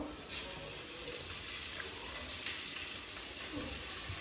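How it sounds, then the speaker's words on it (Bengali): Garlic and pre-fried mushrooms sizzle steadily in a hot pan for a creamy garlic chicken dish, a continuous broadband crackle with occasional stirring scrapes, close and fairly loud, with no talking. "একটু গার্লিক দিয়ে দিব, দেন একটু ভেজে নিব।"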